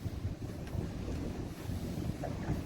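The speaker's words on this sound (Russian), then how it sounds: "Просто нереально дует." Strong wind buffets the microphone at sea on a Black Sea boat fishing for horse mackerel, a steady low roaring rumble with faint water wash beneath, close and continuous without talk.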